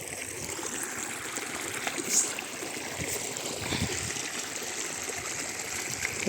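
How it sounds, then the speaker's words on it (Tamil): Water gushes steadily from the 2.5-inch outlet pipe of a 3 hp well pump in a farm channel, making a continuous rushing, splashing wash at moderate level with no speech. "ஒரு ரெண்டரை இன்ச்சு பை ஃபுல்லாக தண்ணி வந்துட்டுருக்கு"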